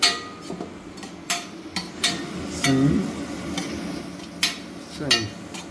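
Masala for paneer butter masala sautéing in a pan, with repeated clinks and scrapes of a spoon against the pan over a faint sizzle, up close.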